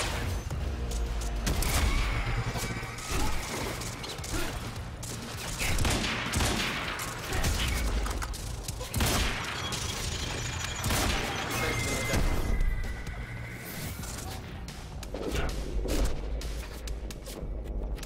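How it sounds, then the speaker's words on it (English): Gunfire in the video game Quantum Break, dense loud bursts of shots and booming impacts continuing throughout, close and heavy, with occasional voices mixed in. "Where are they shooting me from?"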